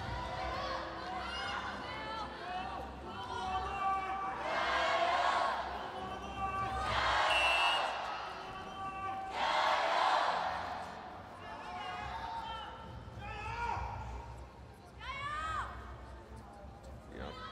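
An arena crowd in Xi'an cheers and roars for a Chinese wrestler during a women's 68 kg gold-medal wrestling bout, the noise swelling in waves beneath a commentator's voice.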